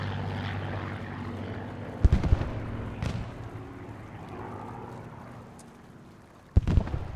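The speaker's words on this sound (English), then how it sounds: "I think I died from the airplane strafe." An airplane's engine drones steadily during a strafing run in the video game Post Scriptum, with sharp, loud impact bursts breaking through at a few points.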